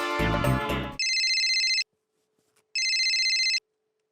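A telephone rings with an incoming call in an Indian family sitcom: two loud electronic trill bursts close by, separated by a short silence, following a brief snatch of voices and music at the start.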